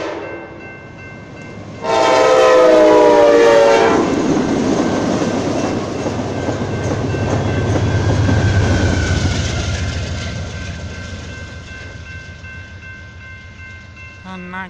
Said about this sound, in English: Cargo train going south on BNSF Seattle